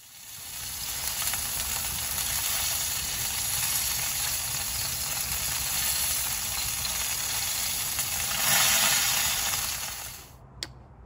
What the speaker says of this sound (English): the beautiful sizzle as the grease and fat drips down from these onto that hot plate below